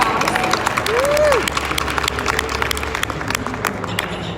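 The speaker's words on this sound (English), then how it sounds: "Let's give her a round of applause." Crowd applause and cheering at a Women's Day event at the Chicago Auto Show fill the clip, a dense steady clapping with a rising whistle-like tone early on, loud and close.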